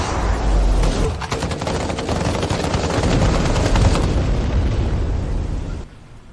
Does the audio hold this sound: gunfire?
yes